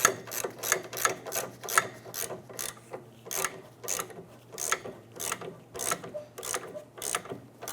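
Ratchet tightening a nut on the rear end link of a 2008-2013 Nissan Rogue, a steady series of sharp, close clicks in repeated bursts with no talk.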